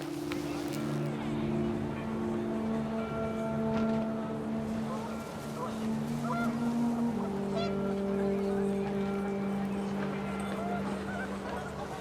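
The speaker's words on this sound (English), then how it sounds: "The wind picked up, and panicked geese appeared and quickly went." Panicked geese honking in the video game What Remains of Edith Finch, with repeated cries over wind and background music, and a voice talking over them.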